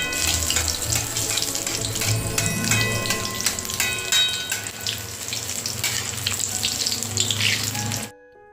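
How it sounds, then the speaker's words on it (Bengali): Egg chops deep-fry in hot oil with a dense, continuous crackling sizzle heard up close. The sound stops abruptly at the end. "সুন্দর করে একটু ভেজে নেব এই দেখুন চপগুলো ভাজা হয়ে গেছে"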